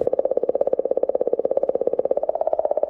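A space recording of the singing comet gives a steady, rapidly pulsing warble, a throbbing mid-pitched tone repeating many times per second at even loudness throughout.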